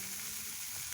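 Food frying in a pan while paneer curry is being cooked, a steady close sizzle with a bright hiss that holds evenly through a short moment, with no voices.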